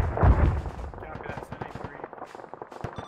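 Artillery high-explosive rounds fire in the ARMA video game, a loud booming blast at the start followed by rolling, crackling rumble that fades over a few seconds.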